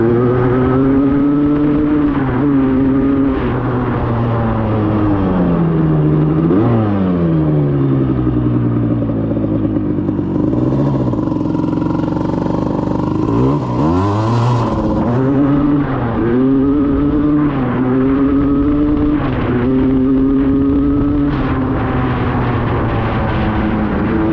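A 1988 Suzuki LT250R ATV engine runs loud and close, its revs rising and falling in repeated throttle blips and swoops over a steady idle, with no talking.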